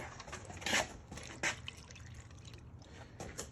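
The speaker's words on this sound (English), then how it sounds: "Pour some water over it." Water splashes and trickles in a couple of short bursts close by as it is poured into a San Pedro cactus pot, with soft dripping between, fairly quiet overall.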